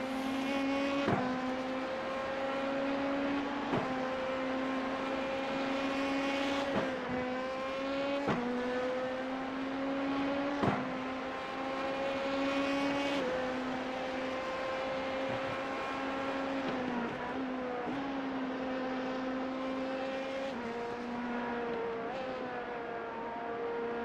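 A hypercar race car at the Sebring 12 Hour race drones steadily from an onboard perspective, its engine tone holding and dropping through repeated gear shifts under a constant loud whine.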